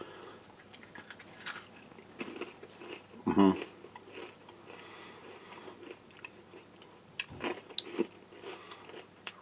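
Crisp, crunchy bites and chewing of cheddar-filled pretzels close to the mic, with one loud crunch early and scattered smaller crackles; no talking.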